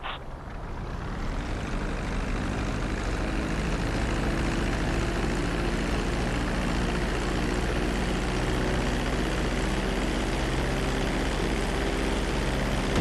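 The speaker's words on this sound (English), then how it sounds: "Now let's get the plane off the runway." Fixed-wing airplane in GTA V rolling along a runway after landing, a steady loud engine drone with a low idling hum running continuously throughout.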